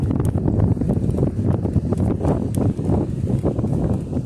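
Strong wind buffets the microphone in continuous gusty rumbles, loud and close, with no voices.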